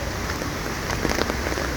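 Rain falls at Repulse Bay Beach in Hong Kong, a dense steady patter on surfaces and likely an umbrella, close and even across the short stretch with no speech.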